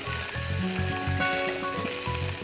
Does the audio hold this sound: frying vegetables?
yes